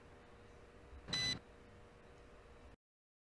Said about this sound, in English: Press the gyro or geomagnetic calibration button for 3 seconds and wait for the beep sound.